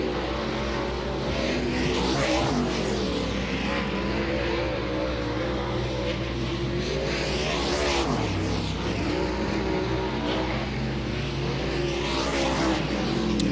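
Dirt track race cars roar around Farmer City Raceway during the Outlaws Illini 100, a dense, continuous engine drone with rising and falling pitch sweeps as cars pass, loud and unbroken throughout.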